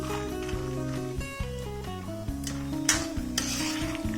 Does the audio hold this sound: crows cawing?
no